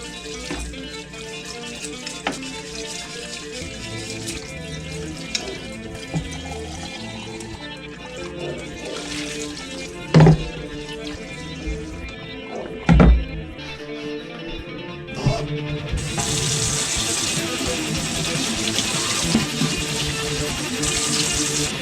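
Water runs steadily from a tap into a parts washer sink in a garage, with a few clunks of handled parts, then the flow grows louder and hissier near the end.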